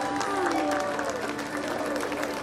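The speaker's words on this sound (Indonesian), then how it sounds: "Cubalah saya nak dengar orang Kelang beri tepukan apa gemuruh untuk pemenang kita." Crowd in Klang applauding a grand prize draw winner, a steady roar of clapping and cheering from a large gathering, with a voice speaking over it.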